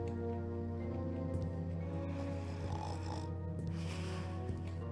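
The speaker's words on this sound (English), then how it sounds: "That guy's snoring is very loud." A guard in a Thief fan mission video game snores loudly and rhythmically in low, rumbling grunts over a steady droning game ambience, with no talk.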